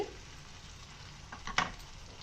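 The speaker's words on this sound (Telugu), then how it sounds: "ఈ ఆయిల్ వేడెక్కాక మనం ముందుగా కట్ చేసి పెట్టుకున్న ఉల్లిపాయల్ని దీంట్లో వేపుకుందామండి." Chopped onions go into hot oil and fry, giving a steady, soft sizzle that swells briefly with a clatter of stirring in the pan.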